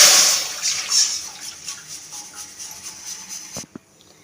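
Water poured into a wok, a loud rushing splash at the start that thins into a softer trickle and bubbling, then cuts off, followed by a couple of brief knocks.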